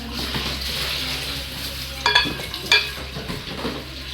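Yogurt being stirred into a dish frying in a pan during home iftar cooking in Pakistan, a steady sizzle throughout with two brief scraping stirs of a utensil against the pan.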